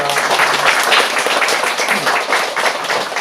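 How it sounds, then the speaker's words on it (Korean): Church congregation applauding during a Sunday service, a dense, steady burst of many hands clapping close by, filling the short stretch with faint voices mixed in. "저분들 위해서 우리 박수 한번 합시다."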